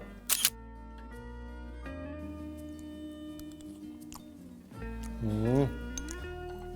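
A camera shutter clicks sharply once or twice at the start while a plated steamed lauki kofta dish is photographed, followed by soft kitchen clinks and a brief voice.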